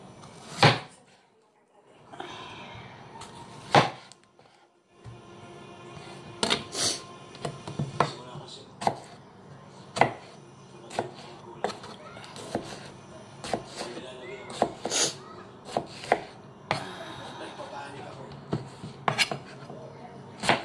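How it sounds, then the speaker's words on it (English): Tomatoes diced with a knife on a cutting board for a ginger and tomato beef soup, irregular sharp chopping knocks and clatters in a kitchen. "Then, next is tomato. Diced tomato."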